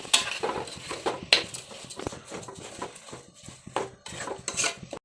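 Washed biryani rice stirred with a metal spoon in a cooking pot for tomato rice gives irregular clinks, scrapes and knocks against the pot, close and fairly loud, in uneven bursts.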